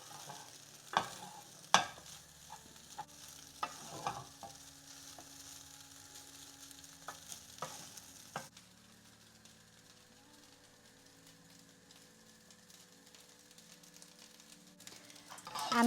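Chickpea rice frying and being stirred in a pan on high heat, a faint continuous sizzle punctuated by scattered utensil scrapes and clicks early on, then a quieter steady fry.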